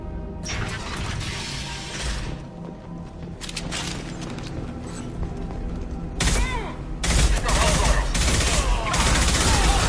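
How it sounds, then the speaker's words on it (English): Gunfire in the sci-fi video game Mass Effect 2 as Blue Suns mercenaries and Vorcha shoot: sustained bursts of rapid shots with sharp shattering impacts, growing louder and denser toward the end. "The Blue Suns and Vorcha are shooting anything that moves."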